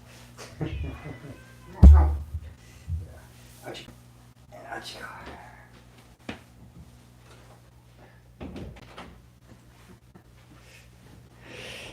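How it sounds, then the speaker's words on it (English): A house cat that has just pushed a door open meows a few times close by, short and fairly quiet cries scattered among soft indoor rustles, with a person talking quietly over parts of it. "Oh, the cat just opened the door."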